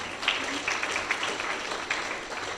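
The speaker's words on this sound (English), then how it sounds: "All right, round of applause for that." Audience applause at a community workshop on deep sea mining, a steady wash of clapping held at moderate, even level for a few seconds with no voices over it.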